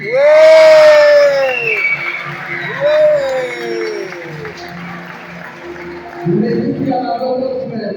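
A contest audience waiting for results cheers and shouts loudly, with strong voiced whoops at the start that fade into crowd noise and applause, then swell again near the end.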